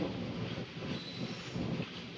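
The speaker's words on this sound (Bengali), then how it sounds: "প্রথম কোনোদিন টানেল থেকে বেরোচ্ছি মেমু ট্রেনে" A MEMU passenger train on the Asansol–Varanasi line rolls out of a tunnel, giving a steady, close rumble of wheels and carriages with no break for the full stretch.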